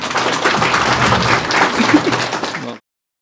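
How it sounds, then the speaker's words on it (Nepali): Guests at a wedding clap together in a lively, continuous burst of applause that holds steady and then cuts off abruptly, with a few voices faintly mixed in. "यो सबै ताली भएको छ"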